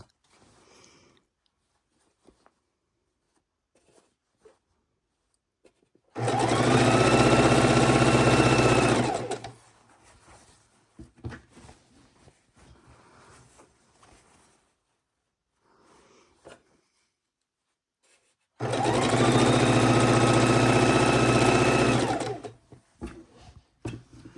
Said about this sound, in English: And if we go too fast, our sewing machine wants to walk away.